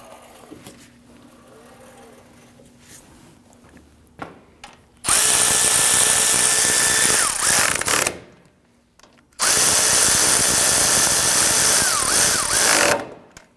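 Power tool snugging down the wheel bolts on a 2010–2019 Ford Taurus after a front wheel bearing and hub replacement: two loud, sustained whirring bursts of several seconds each, close up, separated by quiet workshop background.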